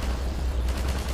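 Enemy gunfire in Half-Life 2 rattles steadily under a low rumble, with quicker sharp cracks in the second half of a short, busy stretch of combat noise.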